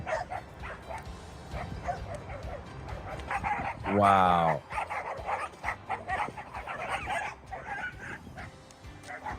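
Dogs fighting in a played-back recording, with a clear yelping cry in the middle amid scrappy growls and yips, under an ongoing voice.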